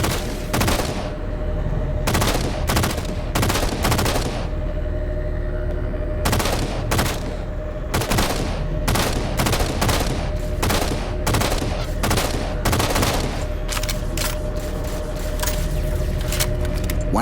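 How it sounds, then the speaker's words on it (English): Heavy gunfire strikes the starboard side of a gondola in the Halo 4 video game, with loud bursts of rapid shots and short pauses over a steady mechanical hum. "Taking fire, starboard side!"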